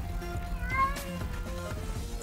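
A cat meows in the video game Minecraft, a couple of short, fairly close mews over a soft background, with no talk.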